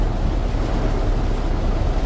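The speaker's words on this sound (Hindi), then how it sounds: "हम लोग को देहरादून रोड में पहली बारिश और बहुत ही तेज गिर रहा है पानी" Heavy rain pours down on the Dehradun road during the season's first downpour, a dense, unbroken roaring wash of water noise without any voices.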